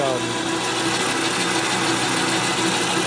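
Metal lathe cutting a workpiece near at hand, a loud continuous whirring and grinding hum with a steady mechanical texture and no voices.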